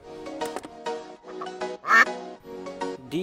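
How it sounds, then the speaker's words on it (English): A duck quacks in a rapid series of nasal calls, close and clear, with short pauses between bursts and one louder quack near the middle. "Duck."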